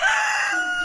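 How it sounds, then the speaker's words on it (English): A rooster crows loudly and close by in one sustained, harmonic call that holds steady for nearly a second, played as a sound to identify during a children's language lesson. "Chicken."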